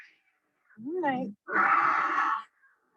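An angry cat screams during veterinary handling, giving a rising-and-falling wail followed by a harsher, longer yowl, close and loud, with brief pauses between the two calls.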